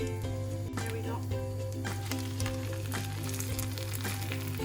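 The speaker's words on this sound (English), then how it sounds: "once it starts sizzling like this, we'll add the first cotoletta" Steady crackling sizzle of a breaded veal cutlet frying in butter in a pan, continuous and close, with faint background hum.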